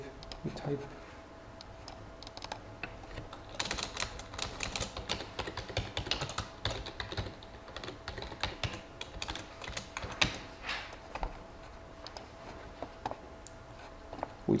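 Computer keyboard typing, a dense run of quick irregular clicks and taps that continues through most of the stretch, close and moderately loud, with faint room noise beneath.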